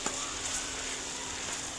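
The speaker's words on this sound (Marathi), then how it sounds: "हे झाल्यानंतर टोमॅटो टाकून घेऊ, कारण टोमॅटो थोडेसे सॉफ्ट होऊ देत आधी" Tomatoes sizzling in hot oil in a pan while cooking a bhogi vegetable dish, a soft, steady crackling hiss at close range with faint pops.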